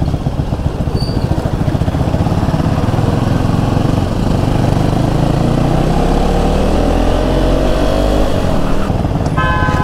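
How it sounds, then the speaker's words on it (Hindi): KTM Duke 390 third-generation motorcycle with a continuous loud, buzzing engine and exhaust drone that climbs in pitch as it revs and pulls, close and sustained throughout. "ऐसा लग रहा है एग्जॉस्ट लग गया इसमें"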